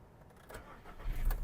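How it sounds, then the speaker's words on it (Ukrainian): A 2008 Skoda Octavia A5 with the 1.6 MPI petrol engine starts after a quiet moment with a faint rattle. In the last half second the engine catches at once with a short, low, louder burst. "Автомобіль заводиться з півтику"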